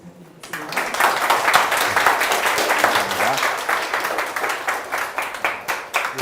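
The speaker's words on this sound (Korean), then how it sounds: "그럼 앞으로 나오실 때 큰 박수 부탁드리겠습니다." After a brief quiet moment, a lecture audience at a public talk on Korean Christianity breaks into warm, steady applause for a history professor coming forward, holding even and full until the end.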